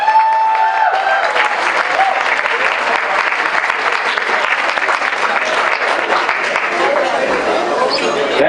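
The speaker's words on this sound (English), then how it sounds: "Can we have a round of applause for her one more time, please?" Wedding guests in a Pan Pacific Hotel room clap loudly and steadily after a toast. The dense applause runs throughout at close range, with faint chatter underneath.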